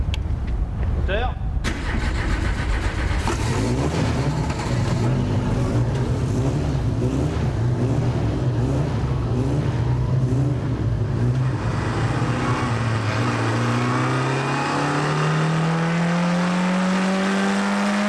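Race cars set off on a formation lap around a circuit, loud engines revving and droning together, with rising pitch sweeps as the cars pull away and voices speaking over the noise.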